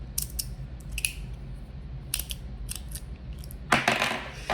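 A YC-EDC Breakthrough fidget slider, a lightweight plate toy, slides back and forth with light metallic rattles and clicks, several quick bursts near the mic followed by a louder, denser rattle toward the end.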